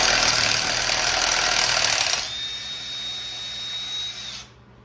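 Impact wrench working driveshaft bolts on a 2010-2016 Cadillac SRX, a loud continuous buzzing hammer for about two seconds, then a quieter whine that winds down and stops.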